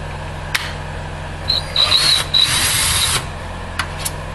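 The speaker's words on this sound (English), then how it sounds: "You can't take off this part unless you use the drill." A power drill backs screws out of an Xbox 360 console casing in a few short, loud whirring bursts, with brief clicks and pauses between them and no speech.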